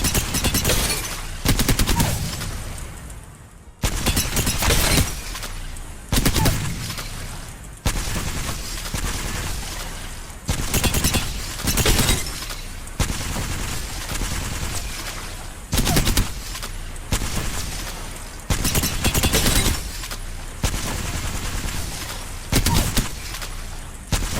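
Rapid, sustained automatic fire from a gun in a video game, dense bursts of shots going on for over twenty seconds with only brief pauses between long strings, loud and close.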